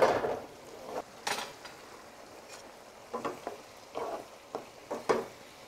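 Shrimp for shrimp scampi sizzling in a pan, with a soft frying hiss beneath a few sharp utensil scrapes and taps against the pan, close by, with no talking.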